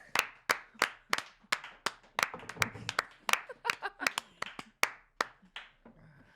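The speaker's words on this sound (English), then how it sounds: "Thanks for applauding my entrance" Scattered hand claps from a small live podcast audience greeting the host's entrance, a run of sharp separate claps at an uneven pace with faint laughter mixed in.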